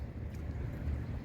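Horse hooves clop along a seaside city street in Thessaloniki, Greece, under a steady low wind-like rumble of outdoor ambience; the hoofbeats sit blended into the background rather than standing out sharply.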